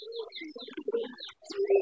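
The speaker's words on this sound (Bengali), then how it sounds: "বিশাল বড় সিরাজি কবুতর" A large Sirazi pigeon coos in a dovecote, several soft, low throaty calls repeating close by with brief pauses between them.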